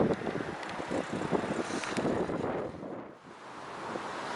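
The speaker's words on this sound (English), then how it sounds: "it's a bit windy, there's some wind" Gusty wind buffets the microphone outdoors beside a brook where a mill pond once stood, a steady broadband rush that dips briefly before picking back up.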